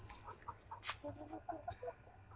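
Chickens of a non-heritage backyard flock, hens and a rooster, cluck softly in a short series of low, close calls, with one sharper squawk, over quiet outdoor background.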